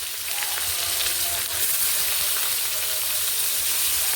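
Pumpkin pieces frying in a pan with dried coriander until brown, a loud, steady close sizzle and crackle with no talk.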